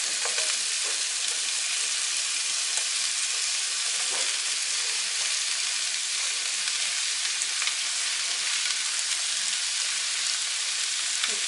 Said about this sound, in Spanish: Enseguida le vamos a agregar los brócolis.